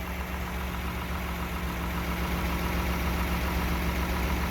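A 1959 Mercedes-Benz 300D Adenauer with a diesel engine conversion idles steadily and close up, a continuous even rumble with a low hum and no voices.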